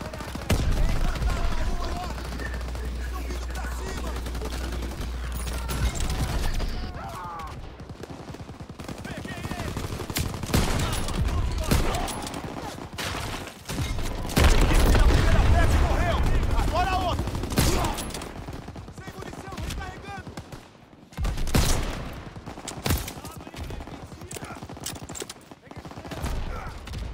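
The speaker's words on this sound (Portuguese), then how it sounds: "aquela PEC-38 tem um atirador! Tá atirando nos nossos tanques!" Enemy gunfire in the Call of Duty WWII video game, a fusillade of rapid shots and bursts that runs throughout, loud and dense. Voices talk over the shooting at points.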